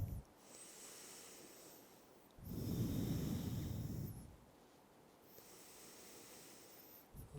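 Slow, steady breaths during a yoga session, soft and close, each long exhale smooth and airy, with one fuller, louder breath rising in the middle before settling back to a quiet, even rhythm.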